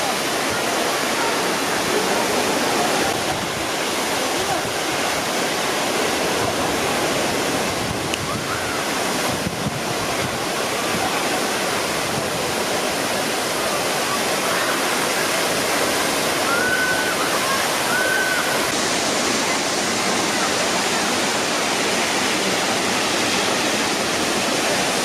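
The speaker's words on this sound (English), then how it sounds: "it was a large waterfall" Jeongbang Falls, a large waterfall on Jeju Island, gives a constant broad roar of crashing water, loud and close, with some wind buffeting the microphone throughout.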